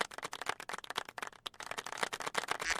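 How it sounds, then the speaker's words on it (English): Soundboard applause effect played into an online community meeting, a dense patter of rapid claps throughout, moderately loud and continuous. "Can we get a soundboard round of applause for the time and effort he's put into?"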